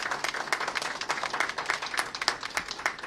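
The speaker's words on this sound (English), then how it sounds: "give them a round of applause for what they did during this pandemic" A modest audience claps steadily at a bill-signing event in Illinois, a few seconds of distinct, fairly close handclaps without talk.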